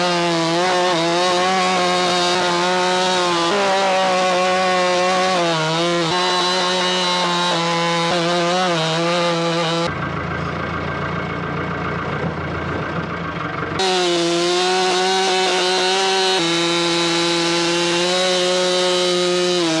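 A big professional chainsaw rips lengthwise slabs off a giant oak butt log, loud and close. The engine holds a steady, wavering howl, dips briefly under heavier load, then returns to its high whine.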